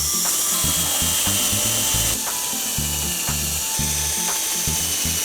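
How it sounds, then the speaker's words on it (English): Holes being drilled into the boot lid of an Audi TTS to mount a fixed rear wing, a steady mechanical whir with repeated short bursts and clicks as the bit bites, close and loud throughout. "And now the scary bit, it's drilling time."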